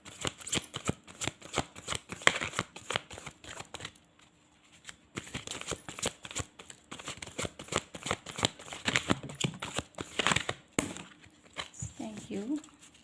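Playing cards are shuffled repeatedly during a tarot-style reading, crisp riffling and flicking bursts in several rounds with short pauses between them, close and fairly quiet, while someone speaks intermittently over them.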